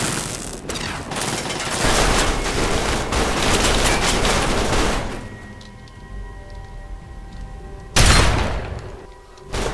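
Turret gunfire from the video game Fallout 3 at Fort Constantine, a dense run of rapid automatic bursts and booms for about five seconds, then a quieter stretch of mechanical tones, then another loud blast.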